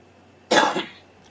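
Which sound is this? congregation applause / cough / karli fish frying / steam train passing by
cough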